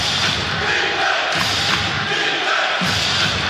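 Crowd noise fills a basketball arena during a Kaohsiung Steelers versus Hsinchu Lioneers game, a loud steady roar with thumps and swells of cheering under a commentator's voice.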